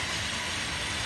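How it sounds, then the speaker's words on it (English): A freight train rolls past in Indianapolis, a continuous loud rumble and roar of wheels and cars close by, brief and unbroken. "a train was coming"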